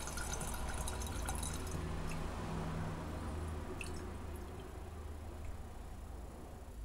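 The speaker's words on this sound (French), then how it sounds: "donc je vais évacuer l'eau." Water drains from a glass separatory funnel during a diethyl ether preparation, making a faint, steady trickle with soft drips throughout.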